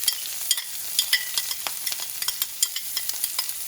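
Garlic frying in a pan over lowered heat for a white sauce, giving a steady high sizzle with scattered crackles and pops as it is stirred, close and without voices.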